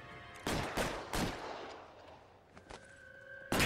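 Gunfire in the video game LA Noire: several sharp, loud broadband shots spaced irregularly, then a quieter stretch with a tonal ring, ending on another abrupt blast.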